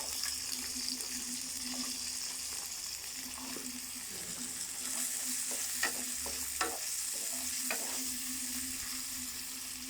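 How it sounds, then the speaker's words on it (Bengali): Beans fry in a pan with lightly browned onions, a steady sizzle with occasional stirring scrapes and clinks, close and continuous. "বিনসটাও হালকাভাবে ভেজে নিতে হবে।"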